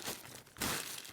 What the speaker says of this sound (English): It's in a plastic bag because it gets very sooty, so it just keeps things clean.